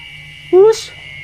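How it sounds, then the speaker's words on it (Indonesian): A single short cat meow rises clearly over a quiet background hum at an old hillside grave site on Gunung Salak, close and brief. "Ya, dengar ya suara kucing."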